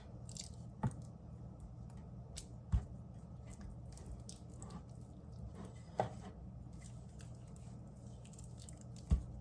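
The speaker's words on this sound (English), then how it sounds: "I'm going to kind of coat the meat, and then I'm going to sear it." Raw meat for a pot roast is rubbed by hand in salt and pepper, making quiet, close squishing and soft handling noises under a low background hum, broken by a few sharp isolated clicks.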